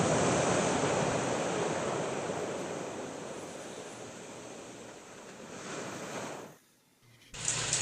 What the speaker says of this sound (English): Here's Bella's first night sleeping with the sounds of the ocean.